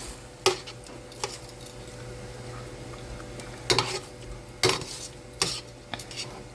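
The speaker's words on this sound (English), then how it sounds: "So I'm going to put the onions back in here. Give everything a stir." Sautéed beef, peppers and onions stirred in a pan: sharp metal clanks and scrapes of a utensil come in scattered bursts over a faint, low sizzle, with no voices.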